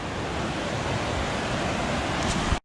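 Steady broadband rushing water of Coldwater Creek and its falls near Mount Saint Helens, loud and continuous, with no voices, cutting off abruptly at the end.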